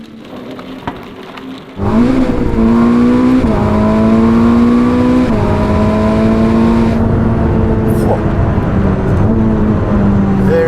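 A Ferrari SF90, a 1000-horsepower hybrid supercar, revs loudly and close by after a brief quiet start, its engine note climbing and falling in repeated sweeps while held at high revs.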